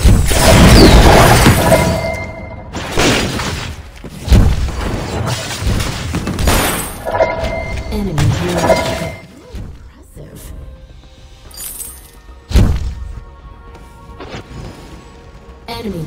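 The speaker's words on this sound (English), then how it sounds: "Enemy turret destroyed." Turret destruction in the Vainglory mobile game, a burst of shattering, crashing explosion effects with booming thuds, repeated hits over busy game audio and a game announcer voice.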